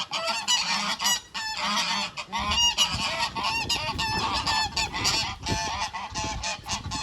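A flock of geese honks loudly and continuously nearby, their harsh, overlapping calls crowding together in a noisy chorus.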